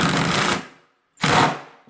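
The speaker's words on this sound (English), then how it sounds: "you're going to take the drill and you're just going to continue screwing it in" Two short bursts from a power drill driving a screw while building a homemade coat rack, each a loud whirring run separated by a brief pause.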